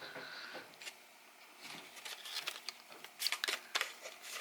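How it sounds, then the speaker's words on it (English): Large scissors snipping through a cardboard package, giving quiet crisp cuts and crinkling that build toward a few sharper, louder snips near the end, with no talking. "Let me get my scissors."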